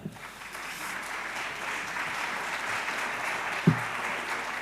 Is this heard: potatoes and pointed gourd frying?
no